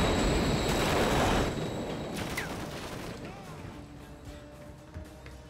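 A train rushes past in Call of Duty Modern Warfare 3, a loud, broad roar that swells at first and then fades away, with gunfire-like crackle and a voice talking over it.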